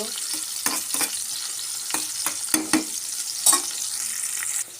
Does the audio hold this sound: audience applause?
no